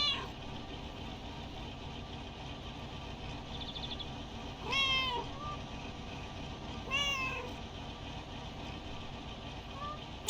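A small house cat gives a couple of short, high meows over steady background noise in a lakeside setting, each call brief and moderately close.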